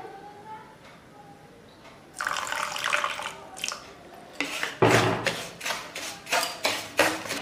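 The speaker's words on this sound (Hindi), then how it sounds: "और थोड़ा सा पानी देते हैं।" Water pouring into a pan of sugar on a stovetop for a thick sugar syrup, heard as a brief splashing pour in several bursts after a quieter stretch, fairly close and moderately loud.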